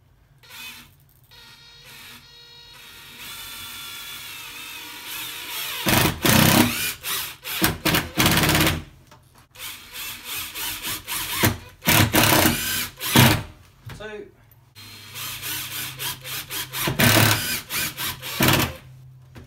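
Power drill driving screws into a UPVC door flag hinge: several short bursts of whirring motor, each rising and stopping, separated by quiet pauses and small handling clicks, close and moderately loud.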